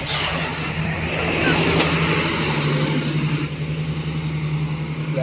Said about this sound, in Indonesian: bentar ada bis.